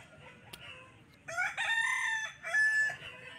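A rooster for sale at a village fowl market in Jhargram, West Bengal, a bird of about 3 kilos, crows loudly and close by in two long strained phrases over faint background murmur.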